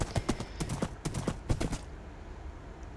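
A horse's hooves clip-clop in a quick, even trot in the video game Minecraft, loud and close for about two seconds before fading to quiet background ambience.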